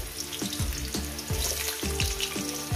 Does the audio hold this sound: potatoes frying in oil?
yes